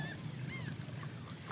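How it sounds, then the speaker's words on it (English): Several birds honk and call over shallow water at sunrise, faint and somewhat distant, with a few short rising and falling cries over a soft hiss. "you can hear the birds"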